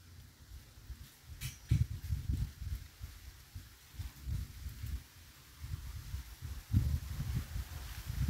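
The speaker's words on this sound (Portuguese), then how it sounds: "Tá ventando bastante aqui" Low rumbling gusts of strong, cold wind buffet the microphone in uneven waves in a backyard with banana plants, a blustery outdoor roar with no one speaking.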